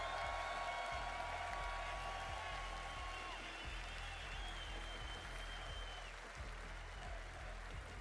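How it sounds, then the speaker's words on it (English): Arena audience at the 2023 Paris Counter-Strike major applauding after a Vitality versus Apeks semi-final, a loud, steady wash of clapping from a large crowd with a commentator's voice over it. "give your semi-finalists here of Apeks a big round of applause"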